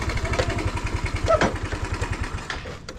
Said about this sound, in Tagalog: Dito na natin lagay yung motor.